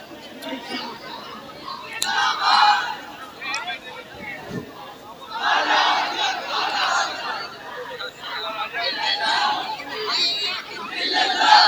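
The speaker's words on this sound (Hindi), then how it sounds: "बस कीजिए, ज्यादा नारा ना लगाइए वरना तकरीर कम होगी।" A crowd at a wedding sermon gathering in Utraula, Balrampur, chants slogans in several loud, close bursts, with mixed chatter and murmuring between the rounds.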